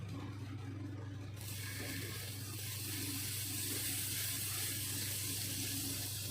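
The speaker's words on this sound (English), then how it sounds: "So now that the pan is nice hot, we are going to put some butter." Butter hitting a hot pan while pizza bread is toasted, a steady broadband sizzle that starts suddenly after a quiet moment and holds evenly over a low background hum.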